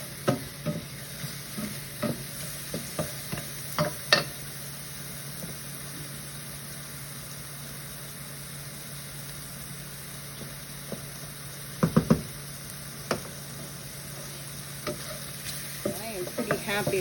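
White mushrooms cook in a pan with a steady low sizzle, interrupted by irregular clacks and scrapes of a utensil, with a faint hum in the background.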